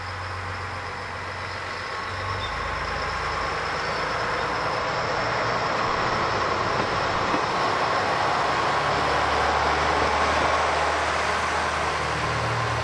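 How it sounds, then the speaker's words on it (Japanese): One-car diesel local train pulling into a rural station, a steady rumbling diesel engine with broad rolling wheel noise building gradually, fairly distant and with no talking. "下りの列車が入ってきました。"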